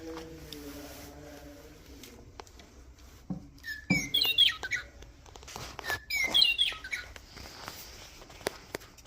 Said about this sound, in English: It is a western meadowlark.